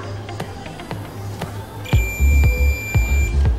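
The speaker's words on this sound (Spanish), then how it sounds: "El pitido significa que hay continuidad" A multimeter tests continuity on a fuse while a PC power supply is being repaired, giving a sustained high-pitched tone over repeated clicks and thumps.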